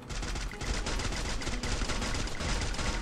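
Sustained automatic gunfire from a gun in the battle royale game Free Fire, dense loud rapid-fire bursts rattling continuously with no pause.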